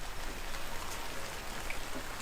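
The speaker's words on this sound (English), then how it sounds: "it's actually raining fairly light right now" Light monsoon rain falls steadily as a soft, even hiss close by, with no voices and no other distinct sounds.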